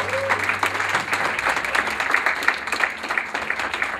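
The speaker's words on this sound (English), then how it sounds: "I want you all to give her a real round of applause" A room of people at an assisted living facility breaks into steady, sustained applause for a longtime volunteer, a dense wash of claps lasting the whole stretch, with a few voices underneath.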